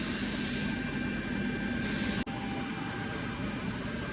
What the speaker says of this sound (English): Now we're getting some Houseboat primer on there.